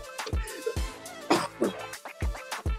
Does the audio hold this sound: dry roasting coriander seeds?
no